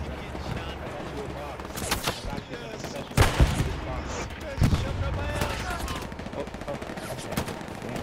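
Gunfire in the World War II shooter Hell Let Loose, including machine gun bursts: sharp shots and clattering volleys crack out repeatedly over several seconds, mixed with ongoing battlefield noise and players talking.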